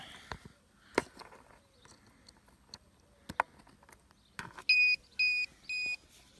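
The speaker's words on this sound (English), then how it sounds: "you'll hear that beep. That's the transmitter" A quadcopter radio transmitter powers on with three short electronic beeps in quick succession, clear and close, following some faint clicks and handling knocks.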